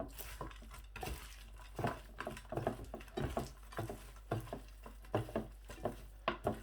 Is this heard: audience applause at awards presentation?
no